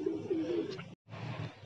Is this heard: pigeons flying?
yes